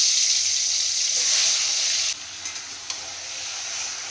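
Marinated chicken drops into a hot pan for chicken curry, setting off a loud, steady sizzle that eases slightly, followed by a few light stirring knocks.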